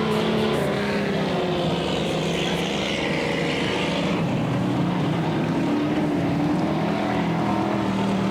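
Classic speedway race cars at Mildura Speedway make a continuous loud engine roar that swells and fades slightly as they circle the dirt track.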